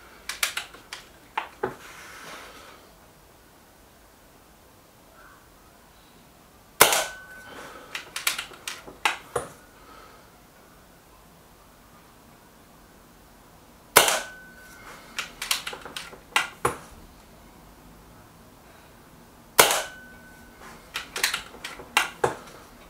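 Pellet shots from a Kral Puncher Pro 500 and a Weihrauch HW 110 air rifle, heard as sharp, close cracks with metallic clicks, arriving in short bursts separated by quiet pauses, with no voices.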